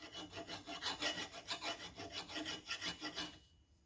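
A hand file rasps across the nose of a steel Chevy 283 crankshaft in quick even back-and-forth strokes, about a dozen rhythmic passes close up and fairly quiet, ending abruptly.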